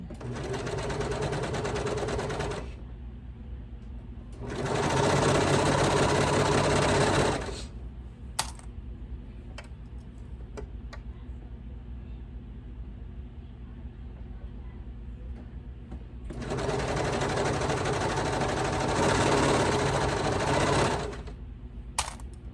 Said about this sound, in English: go all the way around, readjusting and making sure that nothing is underneath what you're sewing